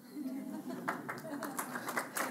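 An audience at a Bhagavad Gita satsang claps in scattered bursts that come and go unevenly over a soft background, with speech in the room.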